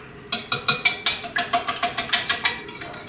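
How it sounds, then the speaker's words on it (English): A whisk beats canola oil and wet ingredients for chocolate baked donuts in a small bowl, making about a dozen quick, evenly spaced metallic clicks against the bowl, close and fairly loud with no voice over them. "you're gonna take your handy dandy whisk and you're gonna whisk all of this together"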